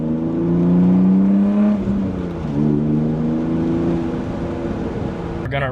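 A diesel-swapped BMW E36 engine runs at idle, a smooth, steady low droning hum with a slight dip in pitch midway, close and continuous, ending in a brief click.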